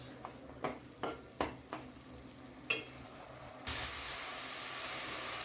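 Onions frying in oil for an Andhra-style egg and potato curry: several sharp spatula scrapes and taps over a quiet sizzle, then a sudden steady loud hiss of frying, close.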